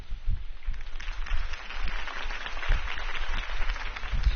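Crowd applause rings out for a campaign speech in Telltale's Batman video game: a steady, dense wash of clapping that holds for several seconds, moderately loud and with no talking over it.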